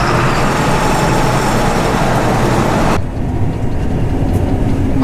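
A thresher machine's engine runs after start-up with a loud, steady, dense roar. Partway through, the hissing top end drops away abruptly while the low rumble carries on.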